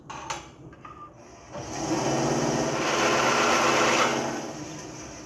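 A small power machine cuts wooden strips to length for a marking gauge. After a few handling knocks, it spins up into a loud, steady high-pitched whine close by, then begins to wind down.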